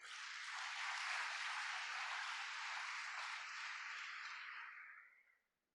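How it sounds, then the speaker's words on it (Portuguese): A church congregation breaks into applause during a Sunday sermon, a dense, steady wash of many hands clapping at once that holds for about five seconds before dying away quickly. "Quem pode dar uma salva de palmas para o Senhor?"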